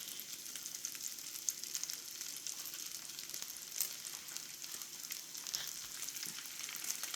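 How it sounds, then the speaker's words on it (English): Food fries in a pan on an induction cooktop in a small apartment kitchen before eggs are added, giving a soft continuous sizzle with faint crackles and no talk. "So we'll fry this up a little more, then we'll add our eggs."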